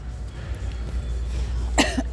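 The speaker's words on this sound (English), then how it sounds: "I hope I don't start coughing." A single short cough near the end, over low background rumble and room noise.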